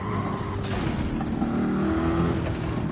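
A Corvette race car in Gran Turismo 7 gives a steady, close engine drone that runs through the whole stretch with little change.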